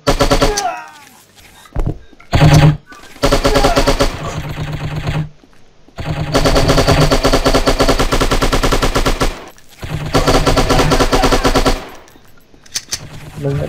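Bursts of automatic gunfire from the shooting video game Striker, loud rapid machine-gun rattles in several long volleys separated by short silences, with a few single shots in between.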